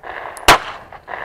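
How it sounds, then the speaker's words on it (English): A single sharp gunshot fired at a pink target outdoors, loud and close, cracking out once over faint background noise. "Okay, Noah, shoot the pink target."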